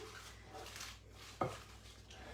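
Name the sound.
stirring pesto chicken salad with baby spinach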